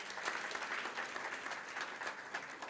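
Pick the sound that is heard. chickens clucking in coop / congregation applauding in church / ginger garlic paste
congregation applauding in church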